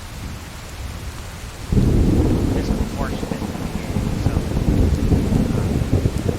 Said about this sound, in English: the raindrops here, for example, in the background, do they feel louder than they should?